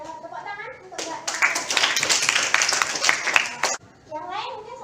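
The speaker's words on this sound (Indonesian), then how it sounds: "Ada tepuk tangan untuk Mbak." Students in a classroom clap for a classmate in a burst of group applause lasting a few seconds, with children's voices talking just before and after.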